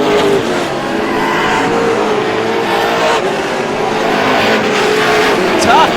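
Race cars run laps at Star Speedway during the GSPSS 100, a continuous, loud engine drone with cars passing, heard under an announcer talking.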